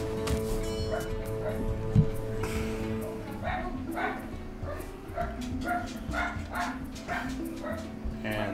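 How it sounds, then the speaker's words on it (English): Dog barking in the Hearthstone card game, several short yips and woofs in a steady run over constant game music and chatter. "There goes the dog."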